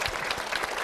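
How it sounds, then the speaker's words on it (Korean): Church congregation applauding, a steady broadband wash of many hands clapping together at moderate volume, brief and continuous with no voices on top. "박수 부탁드립니다."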